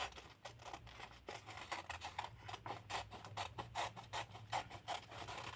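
Scissors snip through glossy magazine paper during a collage project, a steady run of crisp, rhythmic cuts close to the microphone, each snip a short rasping crunch repeating about twice a second.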